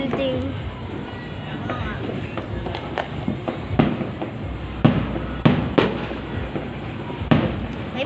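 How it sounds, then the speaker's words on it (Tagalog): New Year fireworks pop and bang irregularly at a distance beside a building while people chatter nearby over a steady background rumble. "May fireworks pa, no?"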